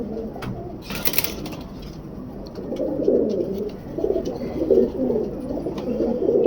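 A large male pigeon of the Imam Din breed and others in a Karachi loft coo in soft, rolling, low-pitched bursts that swell and repeat, with a brief rustle or flutter early on. No voices are heard.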